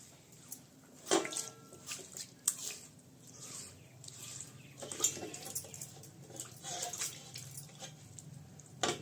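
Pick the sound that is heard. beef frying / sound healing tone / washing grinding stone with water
washing grinding stone with water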